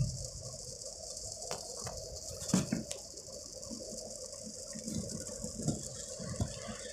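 Rain falling at night near a beach, a steady broadband patter with scattered louder drips and splashes, moderately close and continuous throughout, with no talking.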